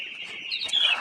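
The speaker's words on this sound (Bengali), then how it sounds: "মুরগিগুলো খেলা করতেছে" Chickens playing indoors under a red heat lamp in cold weather give off a run of high chirping calls that rise and grow louder near the end, close by and without speech.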